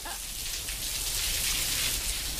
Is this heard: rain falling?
yes